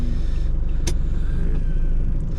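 Engine of a 30-year-old Daihatsu Fourtrak (Rocky) 4x4 heard from inside while driving, a steady loud low rumble with a brief sharp click near the middle and no talking.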